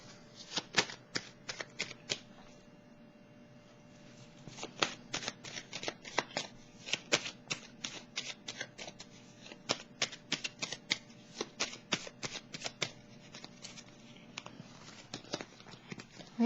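Tarot cards are shuffled by hand in close, crisp bursts of riffling and slapping, with short pauses between rounds and quiet room tone underneath; no one speaks.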